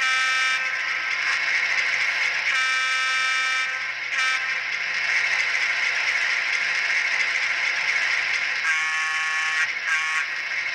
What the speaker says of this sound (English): Function 22 will change the horn.